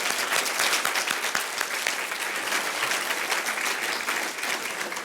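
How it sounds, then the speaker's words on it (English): Sustained applause from an audience at a Phi Beta Kappa induction ceremony, a dense, steady wash of clapping at even loudness throughout, with no voices over it. "Let's give the families and the parents a round of applause."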